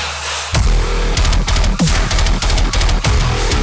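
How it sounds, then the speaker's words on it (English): Heavy metal breakdown with crushing low chugs and pounding drums, mixed with a wobbling electronic bass drop, loud and aggressive throughout. "with a gigantic metal breakdown, dubstep, something drop, all combined"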